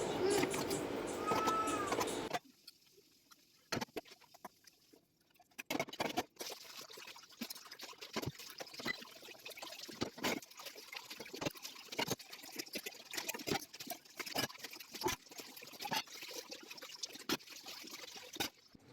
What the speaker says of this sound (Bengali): এবার আমি চট করে বাসনগুলো ধুয়ে নিচ্ছি।